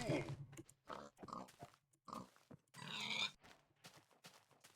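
Pig grunts from a Minecraft pig come in short bursts, mixed with other game sounds, in a quiet, sparse sequence.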